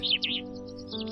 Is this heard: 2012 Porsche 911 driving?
no